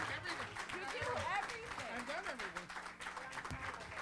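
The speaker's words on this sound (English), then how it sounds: "Please help me welcome the very funny Jim Mendrinos, everybody." Applause from a comedy club audience at the Vintage Lounge greets a comedian walking on stage, a steady dense clatter of many hands running the full length, with voices and cheers rising over it.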